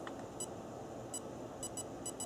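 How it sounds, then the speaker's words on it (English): Sidewinder electronic speed controller beeping while being programmed, several short high electronic beeps, singly and in quick pairs, over a quiet background hum. "I'm going to apply the brake full until I get the red LEDs beeping"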